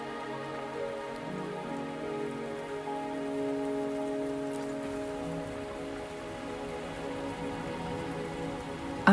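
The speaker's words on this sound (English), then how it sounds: "Are you trapped here by the rain?" Steady rain falls in a scene from the video game Wuthering Waves, a constant soft patter over a sustained musical drone, even and unbroken throughout, with no voices.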